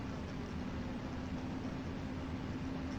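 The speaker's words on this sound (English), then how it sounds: "Our engines are just coming up online." Jet airliner engines spooling up in an FSX flight simulator at startup, a steady broadband roar with a sustained low hum, constant and fairly quiet throughout.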